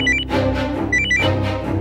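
A telephone rings loudly in a home in two repeated electronic bursts, each a warbling, jangling tone, close and clear with no one speaking.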